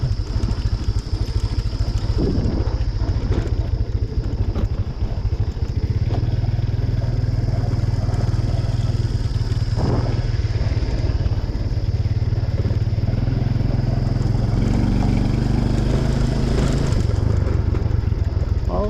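Motorcycle ridden along a mountain road to shops in the Lao hills, its engine droning steadily and close throughout with some clatter, while a rider's voice speaks over it now and then.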